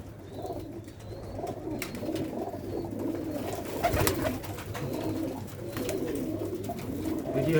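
Domestic rooftop pigeons, including black-faced fancy birds, coo in overlapping, throaty rolls close by, a steady layered murmur of several birds with no talk.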